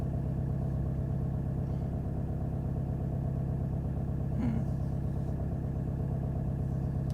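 A 600HP turbocharged Subaru engine runs with a steady, throbbing low drone heard from inside the car, constant and moderately loud for the whole stretch with no talk.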